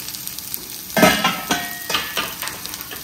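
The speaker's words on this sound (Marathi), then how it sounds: "आता कांदा परतवून घेऊया आपण" Chopped onion and spring onion bulbs sauté in a pan for fried rice, giving a continuous sizzle. Several louder bursts of stirring and scraping come close together in the middle, with no voices.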